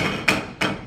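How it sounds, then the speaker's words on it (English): A gavel bangs twice in a hearing room, two sharp, loud wooden strikes about a third of a second apart, over a low background murmur. "as soon as you put your little hammer down"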